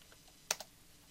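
A couple of quick, faint keystrokes on a computer keyboard, one sharp tap followed closely by a softer one in a quiet room.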